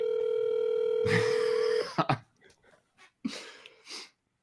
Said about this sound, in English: He's gonna leave you ringing, JL.